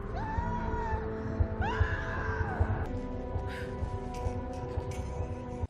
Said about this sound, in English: So our movie begins with lots of screaming and crying.